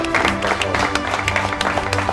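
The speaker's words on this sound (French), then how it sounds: "On peut l'applaudir." Audience applause at the Grizzly Awards 2022 ceremony, a moderate patter of claps over steady tonal sound, continuing evenly for a couple of seconds.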